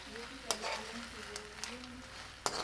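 Small live crabs being stirred as they fry in a pan, with a soft steady sizzle broken by a few sharp clicks and scrapes of the stirring, fairly quiet and without speech.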